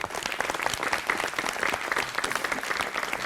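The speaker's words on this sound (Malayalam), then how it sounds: "കൈയടിക്കുന്ന" Dense, steady audience applause at a comedy stage show, many hands clapping together at an even loudness for the whole stretch, with no talk over it.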